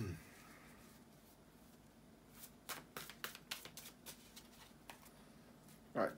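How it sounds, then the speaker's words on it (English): Soft riffling and slapping of tarot cards being shuffled, a quick run of crisp flicks in the middle, then a louder handling sound at the end. "to shuffle the tarot cards"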